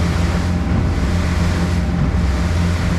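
Boat running on twin Yamaha-style F150 outboard engines on the water, a steady loud engine drone mixed with wind buffeting and rushing water throughout.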